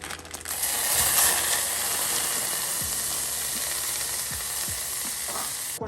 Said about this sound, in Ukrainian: І пересипаємо її в сотейник.